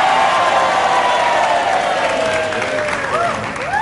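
Loud, steady applause from a TV talk show studio audience fills the whole stretch, with faint crowd noise and a few chirpy sounds near the end.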